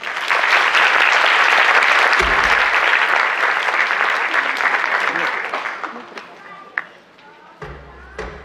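Applause for dancers at a children's and youth dance studio's season-closing concert: dense, sustained clapping from a large audience, loud at first and gradually thinning out, with a few thuds near the end.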